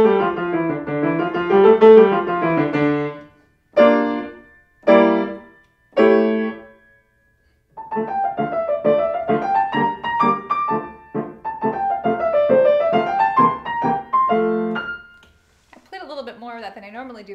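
Piano playing Burgmüller's Tarantella Op.100 No.20, with a fast, bouncing introduction of repeated chords broken by short pauses, then a running melody over steady accompaniment, played alone and close.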